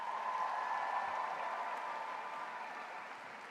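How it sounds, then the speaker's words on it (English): A large audience applauds at a university graduation ceremony, a dense, even wash of distant clapping that holds steady and slowly fades. "give them a round of applause"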